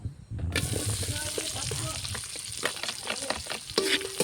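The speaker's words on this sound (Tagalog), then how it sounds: "Ating nga haluin lang rin pabaliktad, pabalintong. Kailangan natin ito mag golden brown." Food fries in a pan while cooking tinola, with a loud steady sizzle starting abruptly and a spatula turning and scraping the pieces in quick irregular strokes, close up.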